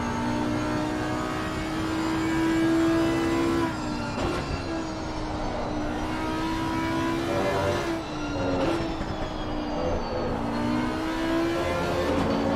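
Audi GT race car in Assetto Corsa Competizione at Suzuka, heard onboard: a loud, steady high-revving engine drone that rises and dips through gear changes and corners, alone without talk.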